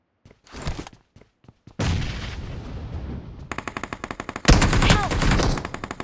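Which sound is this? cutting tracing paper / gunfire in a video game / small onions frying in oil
gunfire in a video game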